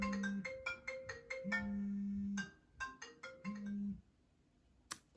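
A mobile phone rings with a looping electronic ringtone melody, three bursts of bright repeating notes over a low tone, fairly close and loud, ending with a short click.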